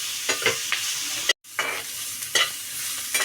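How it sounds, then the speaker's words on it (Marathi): Green chillies fry in oil for a masala, a close sizzling hiss broken by several sharp stirring scrapes and a brief dropout partway through, no talk. "मिरचीला थोडे डाग पडेपर्यंत आपल्याला हे फ्राय करून घ्यायचे आहे"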